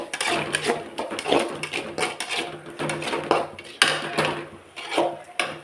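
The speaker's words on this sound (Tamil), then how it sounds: "நல்லா வதக்கிக்கிடலாம்." Mushrooms sautéing with Kashmiri chilli powder and rock salt in a pan, with a steady stream of clinks and scrapes from a utensil stirring against the metal and soft sizzling throughout, close and moderately loud.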